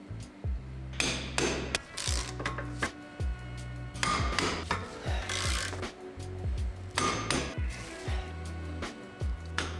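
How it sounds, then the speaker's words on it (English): Repeated sharp metallic hammer strikes driving a hex bit onto a screw on a Porsche 964, close and loud, in irregular bursts of several blows with brief pauses between. "You want to hammer the inner hex bit onto the screw to securely loosen it."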